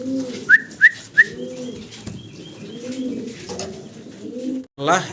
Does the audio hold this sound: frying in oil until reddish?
no